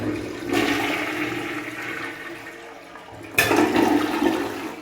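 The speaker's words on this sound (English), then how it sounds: "The toilets do flush." A toilet in a house under construction in the rural Philippines flushes loudly and close by, a rushing surge of water that eases off, then a second strong gush near the end.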